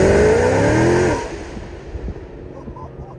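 A Dodge Challenger Red Eye Hellcat engine revs loudly up close, its rising whine cutting off after about a second and settling into a lower rumble with faint background noise.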